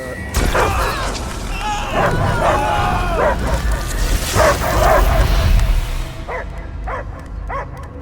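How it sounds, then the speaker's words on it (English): Dog barking inside the video game Guardians of the Galaxy, heard mostly in the last two seconds as a few short, clear barks after a stretch of game voices talking over music and effects. "I hear only barking."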